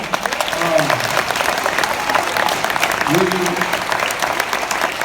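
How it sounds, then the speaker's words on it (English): Audience applause fills a high school symphonic band's winter concert, continuous clapping from a crowd in a hall while a voice speaks over it. "All right, you clap for over there"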